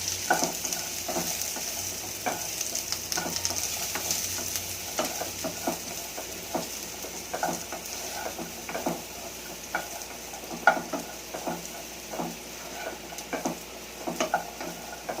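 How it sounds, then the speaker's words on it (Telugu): Boiled chickpeas and peanuts with chili powder are stirred in a hot pan, with a steady sizzle and repeated spoon scrapes at an irregular rhythm, close up and alone, with no voices over it. "దీంట్లోకి ఉడికించుకున్న శనగిత్తనాలు వేసి ఒకసారి లైట్గా తిప్పుకోవాలి."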